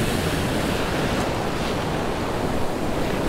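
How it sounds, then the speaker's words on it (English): Big ocean waves break and wash continuously onto the beach at Padre Island National Seashore during surf fishing, a loud, broad roar with wind noise and no voices. "Man, these waves are big here."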